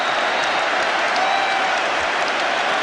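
A large stadium crowd at the 1999 Rugby World Cup semi-final, France vs New Zealand, applauds and cheers continuously, a dense wash of clapping that fills the whole stretch without letting up.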